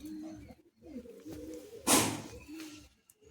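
Pigeons coo in a small loft, low rolling throaty coos repeating close by, interrupted midway by a short burst of rustling like flapping wings.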